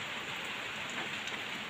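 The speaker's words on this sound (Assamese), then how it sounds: "কৃষ্ণ বৰষুণ পৰি আছে" Heavy rain pours down in a dense, even, continuous patter that stays steady throughout, with no voices.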